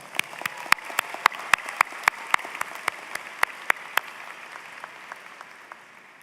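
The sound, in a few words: graduation audience applause for families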